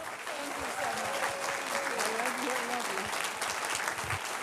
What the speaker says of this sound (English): welcome everybody to give her another round of applause